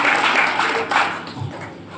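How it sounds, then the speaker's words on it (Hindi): Brief hall applause rises at a BJP active members' conference in Tirodi, a broad wash of clapping that starts strong and fades within two seconds. "जोरदार तालियां"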